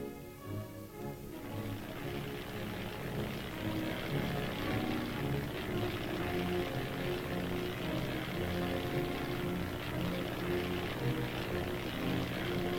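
Military reconnaissance aircraft flying over during a mobile defense exercise, a steady loud propeller-engine drone that swells slightly and holds constant, with no voices.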